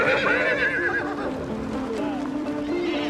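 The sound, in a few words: horse neighing in Mongolia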